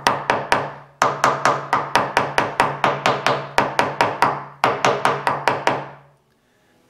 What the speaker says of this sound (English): I'm going to tap it down in there as good as I can